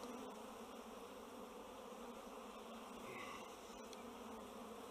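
Steady, dense buzzing of honeybees and drones in a queenless hive, a continuous close hum with no pauses.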